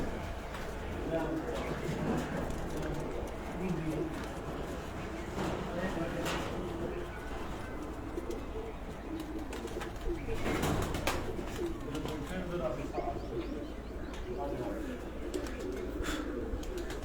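Chinese breed pigeons coo softly and repeatedly at a moderate distance, with scattered wing and scuffling noises and faint background voices throughout.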